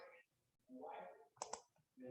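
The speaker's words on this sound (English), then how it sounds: "Just trying to minimize these videos and I keep clicking the wrong spot." A computer mouse clicks twice in quick succession, close and fairly faint, amid a quiet room with soft background murmur before and after.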